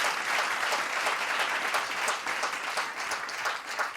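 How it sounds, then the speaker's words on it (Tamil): An audience claps without pause for the parents of a child, a dense, steady sheet of applause at moderate volume with no voices standing out. "ஒரு நிமிடம் இடைவிடாது ஒரு கைத்தட்டு கொடுக்கணும்"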